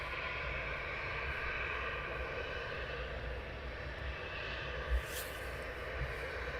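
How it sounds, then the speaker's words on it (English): A Max Jet aircraft departing Luton Airport gives a steady, distant roar of jet engines, broad and sustained throughout, with a brief louder whoosh near the end. "Good morning, Max Jet. Your next departure."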